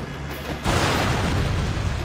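A sudden deep boom from an explosion in the video game Sleeping Dogs bursts in and settles into a dense, rumbling roar that fills the rest of the moment, loud and close.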